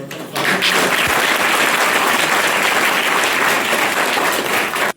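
Loud, dense applause from an audience at a Marathi Language Day school event at Ramgad High School, starting abruptly and holding steady for several seconds before cutting off.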